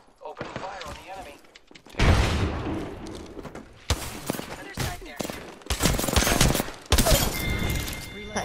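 Automatic gunfire fills an Apex Legends match, with loud close bursts of rapid shots separated by short pauses and thuds between volleys. A player talks at points during the firing.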